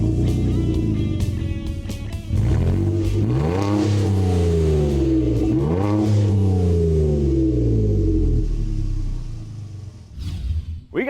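A 2025 Nissan Frontier Pro-4X pickup with a bolt-on aftermarket exhaust revs hard several times, its engine note rising and falling in loud, close throttle blips over a deep rumble before settling back toward idle.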